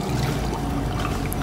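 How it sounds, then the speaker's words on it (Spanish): Water poured into Espiga biscuit mix in a kitchen, a steady close-up splashing trickle that runs without a break for the whole moment, with no talking over it. "le incorporamos 250 de agua"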